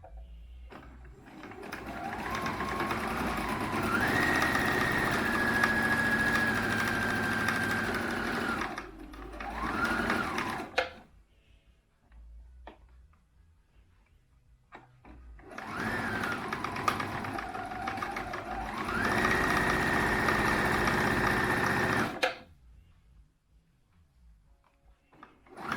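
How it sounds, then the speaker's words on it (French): A sewing machine stitches a fleece fabric face mask in two long, steady runs of rapid mechanical whirring, separated by a quiet pause with light handling noises. "Maintenant, vous allez coudre là autour. Voilà, donc je vais coudre le haut et ensuite je coudrai le bas."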